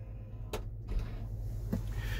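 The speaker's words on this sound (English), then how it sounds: "and that closes that lift gate." The power liftgate of a 2020 Volkswagen Atlas Cross Sport 2.0T SE swings shut with a couple of soft thuds and a faint latch click over a low steady hum.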